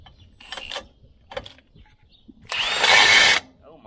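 A power tool drives an old, cross-threading bolt into a road-ditch mower blade, a loud sustained whir of about a second after two shorter bursts, with faint background noise between.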